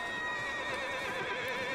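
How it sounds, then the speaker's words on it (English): A horse in Red Dead Redemption 2 running loose near a barn whinnies in a sustained, fairly faint neigh with a wavering high tone, heard alone with no talk over it. "There's a horse running wild back there."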